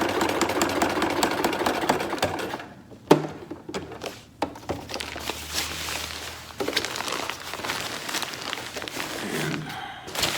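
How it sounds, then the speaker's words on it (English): A sewing machine stitching a patch onto a fabric camping tent, its motor whirring close by in a steady run, stopping briefly with a couple of thunks before running on. "let's sew on that patch here"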